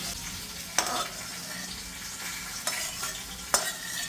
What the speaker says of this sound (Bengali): অপর পাশে আমি অলরেডি মাছের মাথাগুলো ভাজতে বসিয়ে দিয়েছি